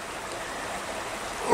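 Creek water flows steadily over a mineral-coated bed in a petrified forest in California, a close, constant rushing wash with no voices.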